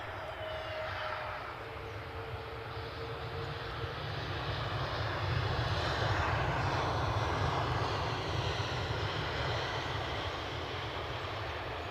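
EasyJet Europe airliner at Edinburgh Airport with a steady, broad engine roar that swells slightly toward the middle and holds loud and continuous throughout, with no talk over it.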